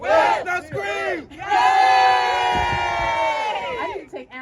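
A political rally crowd screams and cheers for a state senator in a loud, sustained roar of many voices, with a brief shout before the swell and trailing yells as it fades.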